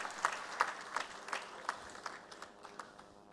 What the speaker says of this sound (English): Give a big round for applause for Siddhartha Mukhopadhyay